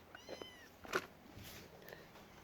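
A kitten learning to walk gives a few brief, soft meows spread over a couple of seconds, with one louder, sharper call near the middle, against a quiet indoor background.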